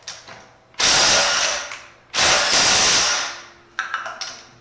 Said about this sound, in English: use the 1/4-inch driver on a couple of the lug nuts and see if we can take it off as well